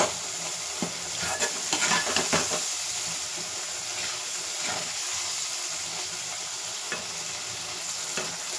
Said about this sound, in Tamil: இந்த பூண்டு நல்லெண்ணெயிலே நல்லா வேகணும்.